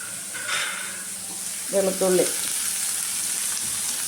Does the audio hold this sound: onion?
yes